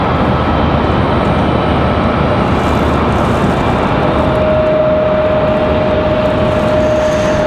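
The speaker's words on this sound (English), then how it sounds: "What you guys are hearing is a little E175 starting up down below us, making all kinds of racket." Embraer E175 jet starting up on the ramp at Raleigh-Durham International Airport, a steady broadband engine roar with a thin rising whine that settles into a sustained tone, loud and continuous, with no talking.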